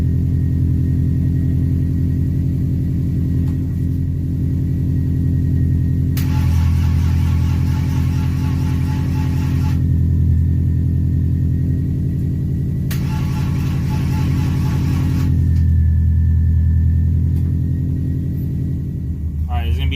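Rebuilt BMW M52 engine on a start attempt: a loud, steady idle rumble, with two stretches where the revs climb and the sound turns harsher, heard up close.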